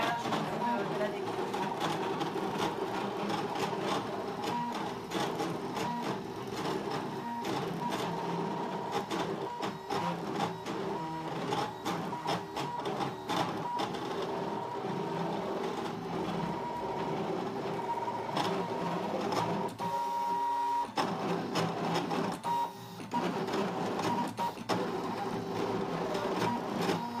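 A Brother ScanNCut CM cuts heat-transfer flex vinyl with a continuous whirring and buzzing of motors and the moving mat. The sound is steady and close, with faint speech in the background.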